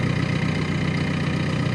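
A JCB's engine idles just after starting, a steady, somewhat noisy mid-to-low chugging with no change in pace.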